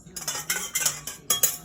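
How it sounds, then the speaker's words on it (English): A spoon stirs sugar in a bowl for yeast dough, a few quick metallic clinks and scrapes in short bursts, close and fairly quiet with no speech. "Let's stir that sugar up one more time."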